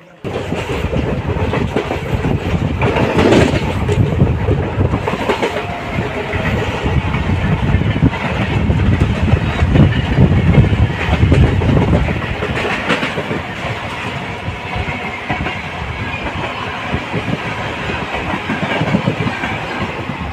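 Heard from inside a moving Tambaram-Villupuram MEMU express train, the carriage rumbles steadily on the rails with periodic clickety-clack wheel beats and rattling, loud and continuous throughout.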